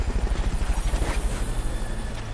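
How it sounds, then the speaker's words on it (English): Fulton recovery helicopter in Metal Gear Solid: Peace Walker, a rapid rhythmic rotor thumping that is strong at first and then fades into a softer, smoother whir. "Fulton recovery helicopter is complete."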